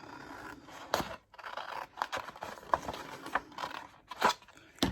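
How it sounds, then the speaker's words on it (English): Small scissors snip through card in a series of short, crisp cuts, irregular in rhythm, close and fairly quiet, with faint scraping between snips. "I'm going to grab some smaller scissors this time."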